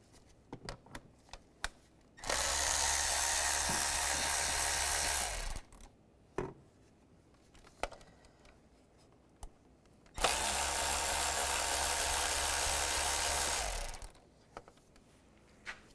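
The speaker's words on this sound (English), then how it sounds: "I'm gonna use an E10 Socket." A power tool on an E10 socket whirs loudly in two bursts of about three seconds each, removing valve cover bolts on a 2003-2010 BMW X3, with quiet clicks and handling noises between.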